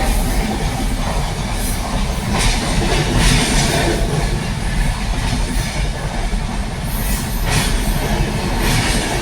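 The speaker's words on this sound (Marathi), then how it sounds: "रेल्वे जाणार आहे त्याच्यामुळे फाटक पडलेला आहे" A train rumbles past a closed level crossing continuously and loudly at close range, with rhythmic wheel clatter and metallic squeals over a steady roar.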